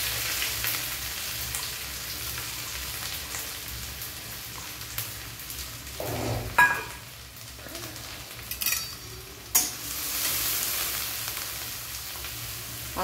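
Onions frying in a pan for a potato curry, a soft continuous sizzle with a few clattering knocks of a utensil against the pan, close and moderate in level, no speech.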